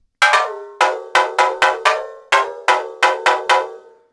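The high mallet percussion preset in a Massive synth plays about a dozen sharp, bright struck hits in a loose syncopated rhythm. Each hit rings briefly like a cowbell and decays fast, with no voice.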